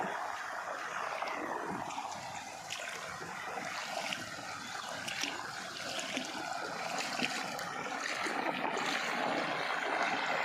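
Continuous rushing of a forest stream flowing down from a mountain, tumbling over rocks, a steady broadband flow with faint splashes, no speech.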